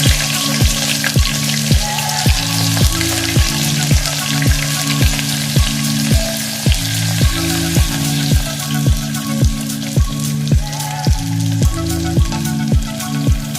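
Mustard seeds, fennel and sliced onion fry loudly in hot oil, giving a continuous close sizzle with sharp pops, set against a regular rhythmic beat and no voices.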